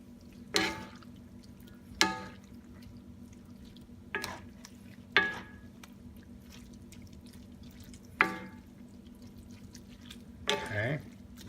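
Fettuccine being stirred into creamy Alfredo sauce with shrimp in a pan: a handful of separate wet scraping, clinking strokes spaced a second or two apart over a low steady hum.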